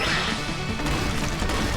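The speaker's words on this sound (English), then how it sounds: "It's running straight ahead, smashing through whatever's in our path and saving the day." In Super Mario Odyssey, a Chargin' Chuck charges ahead smashing through rocks, producing a loud, continuous crashing rumble with crunching impacts throughout, dense and close.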